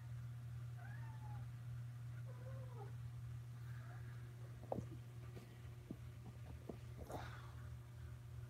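A cat cries to be let back indoors, its faint meows rising and falling several times over a steady low hum, with a few soft knocks and clicks nearby.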